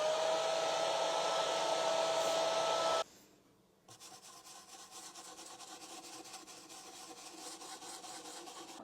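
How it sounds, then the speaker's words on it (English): A hair dryer blows steadily and loudly on fresh paint on a wooden porch stool, then cuts off abruptly; a quieter whirring and faint scraping continue afterward. "we'll just hit that with a hairdryer real quick"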